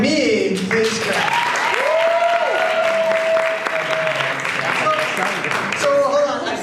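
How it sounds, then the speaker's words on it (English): Audience clapping during a live science show, voting by applause: a continuous patter of hands with whoops and cheering voices riding over it, fairly loud throughout. "If you think me, please clap."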